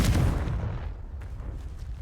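A Confringo spell detonates in Hogwarts Legacy, a loud, close blast that thuds hard at the start and then rolls away into a fading rumble.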